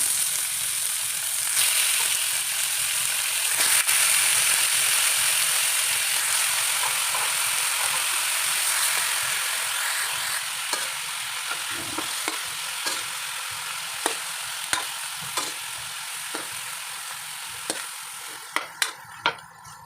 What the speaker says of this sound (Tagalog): Next kong ilalagay para igisa ay itong chicken.